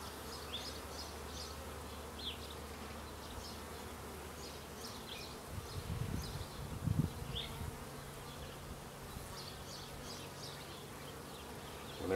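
Honeybees buzz softly and continuously around an opened hive frame during spring hive management, a faint steady hum with a few closer buzzing passes.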